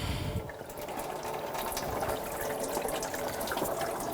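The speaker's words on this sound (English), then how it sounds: "And drain the coolant." Engine coolant from a 2000-2006 BMW X5 3.0L inline-six drains into a drain bucket, a steady splashing liquid stream heard close and continuous, with no voices.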